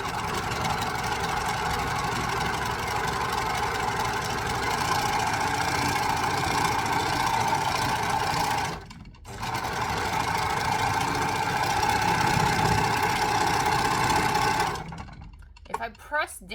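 An overlocker sewing machine stitches fabric for a pink dress, running in a loud, continuous mechanical hum with a short pause midway before it stops near the end, with a voice talking over it.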